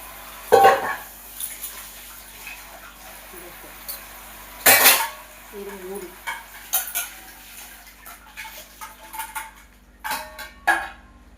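Metal clinks and scrapes of a cooking pot being washed, irregular knocks and rattles at close range, with quiet moments between them.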